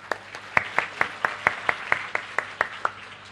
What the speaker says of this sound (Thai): ให้เราปรบมือขอบคุณพระเจ้าด้วยกันสิครับ